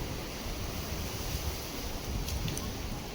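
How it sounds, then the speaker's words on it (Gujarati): Strong gusting wind sweeps through a village ahead of a storm, a steady, dense roar that stays loud and unbroken throughout with no voices. "આમ જુઓ કેટલો પવન આવે."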